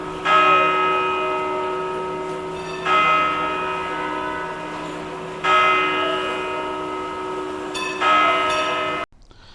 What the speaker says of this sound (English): Every hour, the post office bells strike on the clock tower.